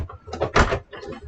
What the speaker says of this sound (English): This door is a little wonky.